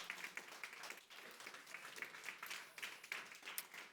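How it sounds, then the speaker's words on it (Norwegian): Audience applause for a speaker at a university energy evening on nuclear power in Norway, distinct individual claps forming an uneven rhythmic patter at moderate distance, fairly quiet overall. "Jeg synes vi gir han en applaus."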